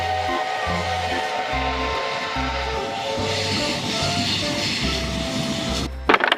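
A toy steam train runs nearby with a repetitive rhythmic chugging pulse and a continuous mechanical whir, steady and moderately quiet, ending with a few sharp clicks.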